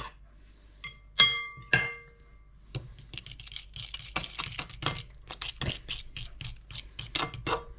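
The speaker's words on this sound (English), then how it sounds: "It's basically going to be me whisking it and then kneading it with my hands" A fork clinks against a bowl while whisking boilie bait mix, first a few bright isolated chinks, then a run of quick irregular scraping taps, fairly close and moderately quiet.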